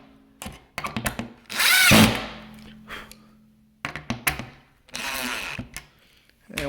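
Power drill driving small screws into an IKEA Maximera drawer, with several short whirring bursts and one longer, louder run, separated by quiet handling clicks and thunks.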